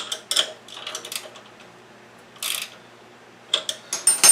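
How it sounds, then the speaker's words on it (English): A clevis bolt on a go-kart pedal being tightened with a wrench: a few short ratcheting clicks and metallic creaks in brief bursts, close and moderately loud, with quiet pauses between them. "tighten that clevis up"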